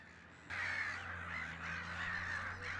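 A colony of black-headed gulls in a freshwater marsh gives harsh, overlapping calls that start abruptly and carry on loud and continuous over a low background hum.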